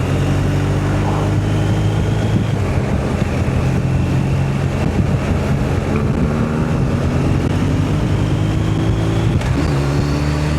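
A BMW R1250RT motorcycle engine roars loud and close, its pitch climbing as it accelerates hard through several rising gear pulls, with wind noise over the ride.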